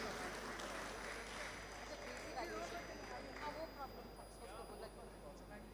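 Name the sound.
audience applause for a speaker coming on stage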